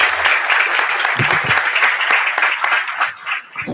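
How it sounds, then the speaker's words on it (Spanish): Audience applause at a conference after a talk, a dense steady patter of many hands clapping close by that thins out and fades toward the end. "gracias un aplauso a ustedes."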